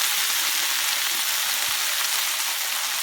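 Mint leaves sautéing in a pan for pudhina thokku, a steady bright sizzle running throughout with faint scraping from stirring underneath.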